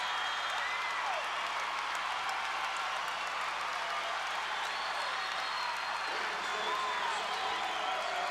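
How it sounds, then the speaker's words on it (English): A gym crowd at a state championship volleyball match applauds and cheers steadily after a long rally, a continuous wash of clapping heard from a distance under faint voices. "Both teams need to be applauded."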